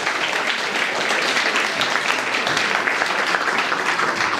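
Dense, sustained applause from a crowd at a celebration of life gathering, steady and fairly loud with no break.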